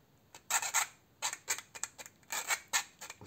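A cutting tool snips and scrapes at the end of a tough nylon plastic bike lock in a series of sharp, irregular crunching clicks, close and fairly quiet, with no talking.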